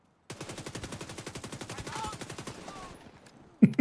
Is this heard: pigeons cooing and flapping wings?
no